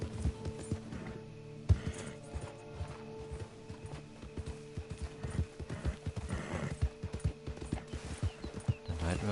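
Horse hooves clip-clopping at a steady trot while riding toward Tall Trees in Red Dead Online, close and rhythmic, with a brief whinny and soft ambient game sounds behind.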